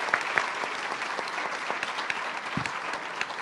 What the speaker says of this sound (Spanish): Quiero pedir un fuerte aplauso para los emprendedores y los inversionistas